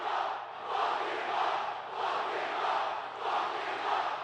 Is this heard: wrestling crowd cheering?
yes